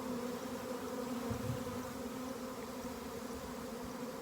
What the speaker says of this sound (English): Beautiful bees.